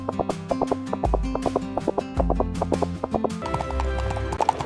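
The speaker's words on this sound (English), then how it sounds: "Leaving her behind as the carriage carried the sisters away." A horse-drawn carriage clip-clops away on a dusty road, with brisk, evenly paced hoofbeats and a brief whinny, heard over background music.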